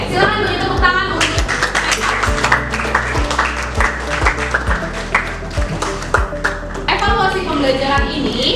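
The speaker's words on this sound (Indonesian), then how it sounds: "silakan beri tepuk tangan untuk" Students in a classroom clap after a group presentation, a scattered round of hand claps mixed with sharp taps and nearby chatter, fairly close and lively.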